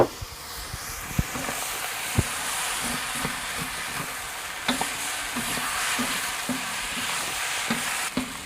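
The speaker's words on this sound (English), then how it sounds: "I'm going to add a little soy sauce, and we're going to mix that up." Rice stir-frying with soy sauce in a wok set on a Big Green Egg ceramic grill: a continuous sizzle broken by repeated sharp scraping and clanking taps of the spatula against the wok.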